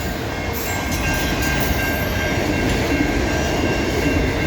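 Norfolk Southern freight train 397 rolling past at Egerton Street in London, Ontario, a steady, loud, close rumble with wheel noise and faint high squeals throughout, no talking.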